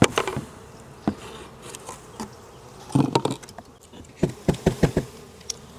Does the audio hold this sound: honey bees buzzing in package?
yes